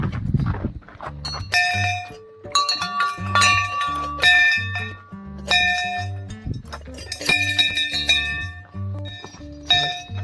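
Metal bells struck repeatedly along the path to Neelkanth temple, bright clanging rings overlapping in an irregular, loud rhythm with lingering tones and no talking.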